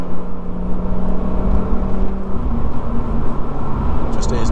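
A Lotus Evora with an automatic gearbox kicks down, its engine note rising in a loud, steady rev heard from inside the car over road and wind rumble while someone talks.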